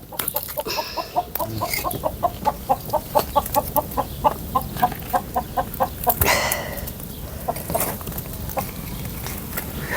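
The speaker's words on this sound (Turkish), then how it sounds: "Ay burada da horoz varmış." A rooster in a Turkish village clucks in a rapid, rhythmic series of short calls, fairly close, followed by a few scattered squawks and clucks.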